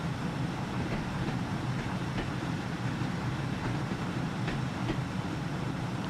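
Simulated passenger train on the London Euston to Glasgow Central service in a train video game, heard as a steady, continuous interior rumble of running rolling stock with faint periodic rail clicks throughout, no talking.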